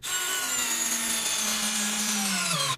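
A Metabo brushless drill drives a screw on its second speed, giving a steady, loud motor whine throughout with a slowly falling pitch as the load rises near the end.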